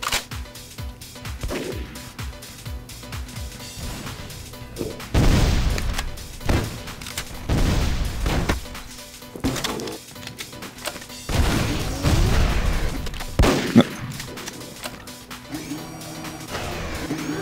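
Rapid bursts of automatic gunfire and heavy blasts from the online shooter MicroVolts in zombie mode on the Neighborhood map, loud repeated volleys with short pauses between them and little talk over it.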